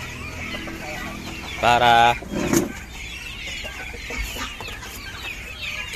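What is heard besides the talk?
chickens and ducks clucking, agitated before feeding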